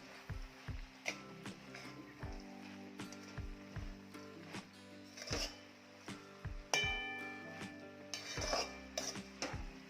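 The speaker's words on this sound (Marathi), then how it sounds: "मीठ टाकून पुन्हा एकदा छान हे मिक्स करून घ्यायचं आहे" Shepu (dill) and bhopli (capsicum) vegetable is stirred in a pan after salting, with repeated scraping and clinking of a spoon against metal over a low sizzle, close and moderately loud.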